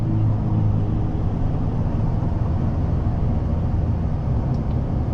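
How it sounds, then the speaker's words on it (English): Steady broadband road and tire roar inside a 2024 Chevy Silverado ZR2 diesel off-road truck cruising on the highway, a continuous low rumble with no talking. "I can confirm that tire noise in this vehicle is not a problem."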